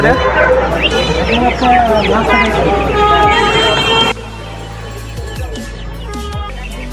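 Chickens cluck and squawk in a busy poultry and bird market at Kathgora Bazar, Ashulia, Savar, Dhaka, with overlapping bird calls over a noisy crowd; the loud din drops quieter partway through.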